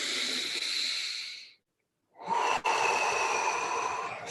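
Deep guided breathing, one long airy inhale and then, after a short silent pause, a second long breath with a brief sharp catch, close and breathy.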